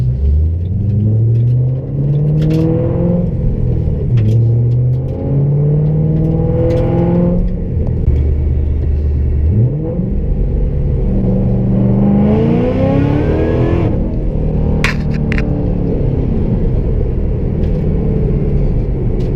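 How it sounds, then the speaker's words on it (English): A 700 WHP Ford GT500 on M/T ET drag tires pulls hard at wide-open throttle in second gear from 40, its loud, close engine roar rising steadily in pitch with brief shift-like dips and no talking. "That was just a second gear wide open pull from 40."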